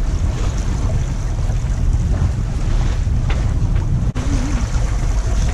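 A sailboat beats close-hauled along the coast in about 12 knots of wind, with strong wind buffeting the microphone over the rush of water against the hull, loud and steady with no talking.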